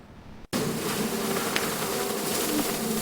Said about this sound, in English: Yuck! Bugs are coming!